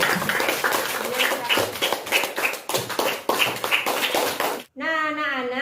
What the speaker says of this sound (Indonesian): Tepuk tangan buat Indra.